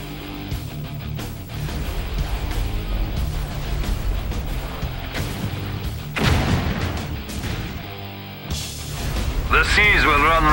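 Missile launchers fire in a Soviet naval battle in a strategy video game: rumbling launches and booming impacts come in bursts over a dense battle din, with in-game voices speaking over the action.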